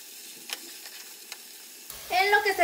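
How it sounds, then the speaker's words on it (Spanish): Chicken breast sizzles in a frying pan, a steady crackling hiss with faint pops that grows suddenly louder and fuller near the end, as if turned or stirred. "Ya pasaron 5 minutos que se estuvo friendo la pechuga de un lado,"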